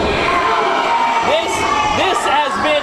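A wrestling crowd at a main event chants and cheers loudly and continuously, with whoops and shouts rising over the dense roar.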